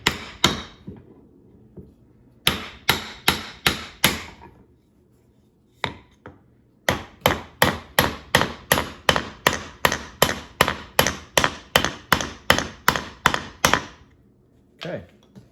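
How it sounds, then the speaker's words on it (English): Hammer blows driving a forged mild steel hammer head onto its handle, loud sharp strikes in quick rhythmic bursts separated by short pauses, with a few isolated hits. "Couple of strikes here. And drive it home from here."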